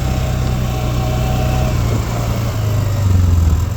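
A Polaris Sportsman 570 ATV engine drones steadily while riding, a loud close buzzing hum that rises slightly in pitch near the end, with no talking.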